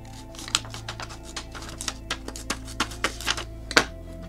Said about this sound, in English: Swiss Army scissors are much better at going through paper.